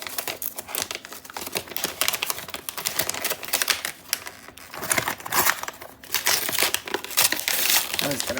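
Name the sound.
unwrapping a Christmas gift package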